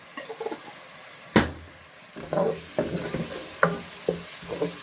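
Dal roasting in a pan sizzles steadily while a spoon stirs it, giving a continuous hiss with intermittent scraping knocks and clatters, close by and moderately loud.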